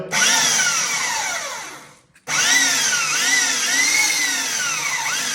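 A QQ-700 hydraulic oil pump station (1.2 kW, 70 MPa, 220 V) drives cable shears with a loud, steady electric whine. The whine cuts out briefly, then restarts with repeated dips and rises in pitch as pressure builds. No one talks.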